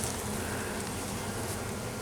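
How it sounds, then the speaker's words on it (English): Honeybees buzz near a hive entrance after a swarm, a continuous close, even drone with no pauses and no voices. "I'm just gonna help a few more of these bees into the entrance over here."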